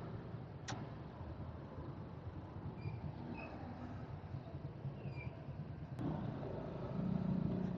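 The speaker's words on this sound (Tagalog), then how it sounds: "Sobrang traffic naman." Faint, steady street traffic rumbles at a distance, with a brief sharp click and a slight swell in the noise near the end; no voices are heard.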